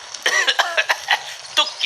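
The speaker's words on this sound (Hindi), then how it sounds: "तब तक मैं खांसता ही रहूंगा" Repeated harsh coughing, a rapid series of close, raspy coughs.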